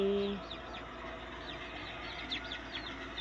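Soft clucking of chickens scattered over a steady outdoor background, with a few faint chirpy calls; no talking.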